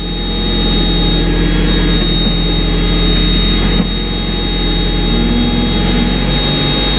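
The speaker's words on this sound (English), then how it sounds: "it shouldn't be idling this high right now" A loud, steady Mazda Miata engine roar with a constant high hum, idling too high, holds throughout, revving slightly near the middle and staying elevated without pause.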